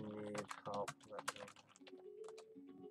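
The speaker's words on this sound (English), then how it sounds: "I don't know why I'm typing this. You can probably hear me." Quiet computer keyboard typing during a Project Gorgon game session: a short run of soft key clicks, heard faintly over a low voice-like murmur in the background.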